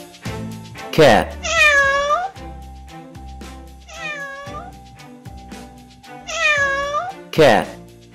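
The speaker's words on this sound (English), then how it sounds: "Cat." A domestic cat meows three times in drawn-out, rising and falling calls, each close and clear, with a person speaking briefly at the start and end.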